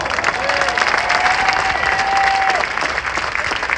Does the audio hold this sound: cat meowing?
no